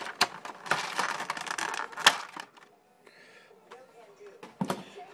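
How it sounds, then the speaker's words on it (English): Plastic packaging of a Tamashii Nations Robot Damashii 00 Gundam Trans-Am Clear Version figure crinkles and rustles up close, with sharp clicks and tearing bursts, then a quieter pause before more handling. "But opening up the packaging."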